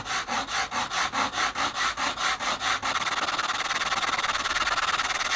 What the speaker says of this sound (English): I've got to take quite a bit of balsa off, I'm going to be using my permagrit, but on the coarse setting.